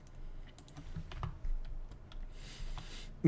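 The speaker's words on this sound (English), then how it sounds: "Very loud typing." Heavy-handed typing on a computer keyboard, loud close clicks and clacks in an irregular fast rhythm, with a louder burst of keystrokes near the end and no talking.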